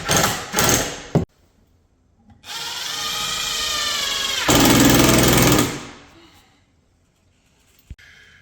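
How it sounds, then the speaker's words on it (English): A power drill pre-drills holes in wooden studs: a few short bursts, then a long steady whine that rises in pitch and load before it stops. Brief knocks come before and after. "Pre-drilling the holes so that we can then put our construction screws in and attach it"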